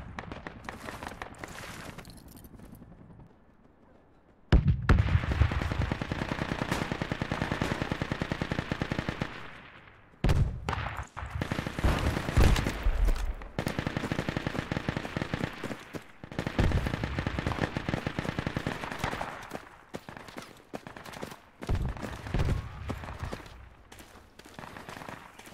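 Rapid automatic gunfire from an enemy fire support team in the tactical shooter Project Reality arrives in long, loud bursts with short pauses between them, after a quieter opening stretch.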